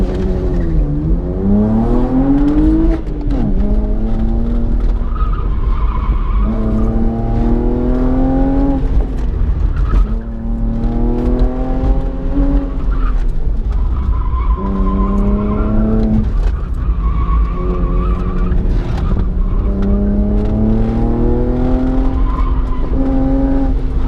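A race car on a timed run holds a loud, steady engine note rising and falling through gear changes, with tires squealing and skidding through corners. The sound continues throughout with no talk.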